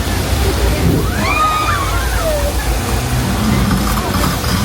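Flash flood water effect on the Universal Studios Hollywood studio tour, with recycled water dropped in a torrent, makes a loud, continuous rushing roar up close, with rising and falling voices carrying over it.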